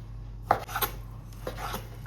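A knife chops fresh chicken into small pieces on a board for homemade nuggets, giving a few sparse, close, crisp thuds over a low background hum, with no speech.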